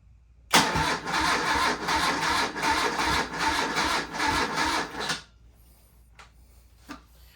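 A BMW R75 motorcycle engine, running straight through the carbs without the airbox, cranks over for about five seconds in a loud, rapid pulsing churn, then stops, leaving near silence with a couple of faint clicks.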